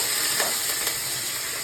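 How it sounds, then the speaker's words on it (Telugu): Green chilies and curry leaves fry in hot oil for palakura pesarapappu, giving a loud, steady, close hiss and sizzle throughout with a couple of brief spattering pops. "ఇప్పుడు పచ్చిమిరపకాయలు, కరివేపాకు వేస్తున్నాను. నెక్స్ట్ కొద్దిగా వేగాలి."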